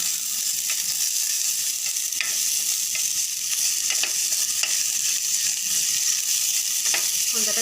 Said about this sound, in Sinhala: අපි ඉස්සෙල්ලාම අල ටික හොඳට බැදෙන්න ඕනේ